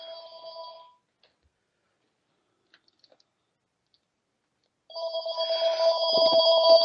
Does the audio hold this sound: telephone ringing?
yes